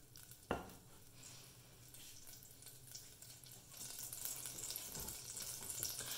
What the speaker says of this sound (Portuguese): eu começo esquentando a panela e colocando 1 colher de sopa de manteiga